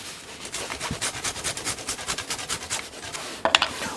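Dark chocolate is rasped on a grater over a banana, a quick rhythmic run of close scraping strokes ending in a small clink.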